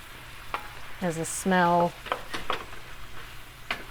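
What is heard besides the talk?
apples with cinnamon sizzling as they fry in pan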